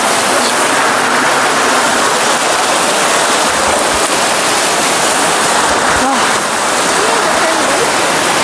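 A beautiful waterfall in Manipal pours in a steady, loud broadband rush that fills the whole stretch, with faint voices now and then beneath the roar.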